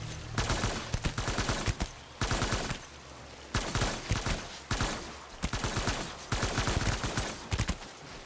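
Rifle fire in Death Stranding comes as repeated bursts of rapid shots in several volleys, loud and close, with short pauses between them and no talking.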